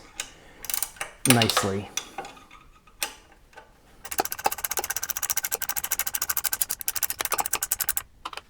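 A 9/16 wrench ratchets a nylock nut tight on a Triumph TR4 front dust shield, with a brief voice early, then a rapid run of close, crisp metallic clicks for several seconds.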